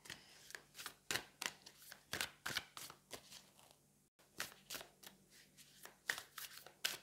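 Tarot cards are riffled and shuffled in quick repeated bursts, soft and close, with a brief pause midway before the rhythmic flicking resumes.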